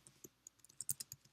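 Quick, light keystrokes on a computer keyboard during Java Selenium coding, about a dozen soft irregular clicks in a short burst, faint and close in a quiet room.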